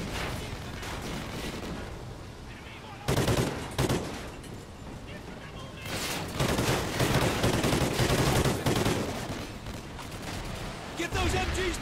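Dense machine-gun fire from Call of Duty: Ghosts keeps going through the whole stretch, loud and close, with sharp bursts and explosive thumps layered over it and voices talking underneath.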